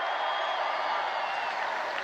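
A large crowd at an outdoor political rally in Grand Rapids cheers and applauds in a dense, continuous roar that holds steady from start to finish, loud and enveloping.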